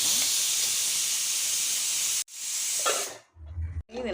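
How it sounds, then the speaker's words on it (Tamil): Steady loud hiss of steam escaping from a covered pot of boiling fish curry, then a sudden cut and softer bubbling hiss with brief clatter near the end. "இது மூடி போட்டு நல்லா கொதிக்கணும்"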